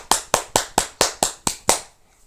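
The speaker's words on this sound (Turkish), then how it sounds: "Alkışlayın alkışlayın." Guests at a wedding clap as the bride and groom arrive, giving eight sharp, evenly spaced claps that stop abruptly, close and fairly loud, followed by a brief quiet.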